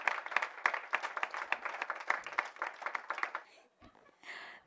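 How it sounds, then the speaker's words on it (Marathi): An award ceremony audience breaks into loud, dense applause, steady rapid clapping that fades out near the end. "एकदा जोरदार टाळ्या आणि सर्व पुरस्कारार्थींचं खूप खूप मनापासून अभिनंदन."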